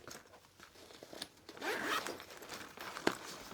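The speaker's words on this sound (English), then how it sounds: "The zippers do not feel great." A zipper on a Klein tool bag is pulled open in one quick rasping run, close and fairly loud, with a few faint handling clicks around it.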